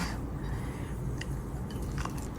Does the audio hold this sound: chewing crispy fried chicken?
yes